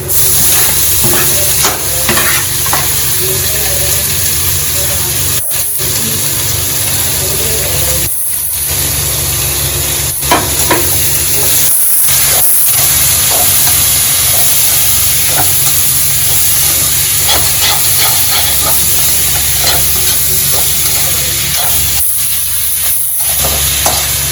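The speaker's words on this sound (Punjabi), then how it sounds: "ਲਸਣ ਆਪਣਾ ਬਰਾਉਨ ਹੋ ਗਿਆ ਵਾ ਹੁਣ ਆਪਾਂ ਪਾਵਾਂਗੇ ਪਿਆਜ਼" Garlic browning and onions frying in a pan for arbi curry, a continuous loud close sizzle with stirring scrapes and hiss running throughout, no talking.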